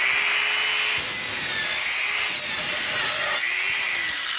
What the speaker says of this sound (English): So now with the dual saw, you can cut it, and you can do it custom,